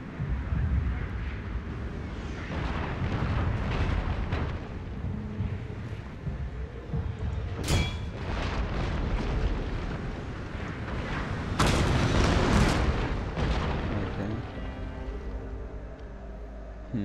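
Wooden cannons fire in the samurai-era strategy game Shogun 2: Fall of the Samurai, with rumbling booming volleys over steady battle noise and two loud, sharp bursts standing out.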